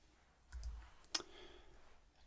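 A computer keyboard is cleaned in a quiet room, giving a few soft, close taps and one sharper click against near silence.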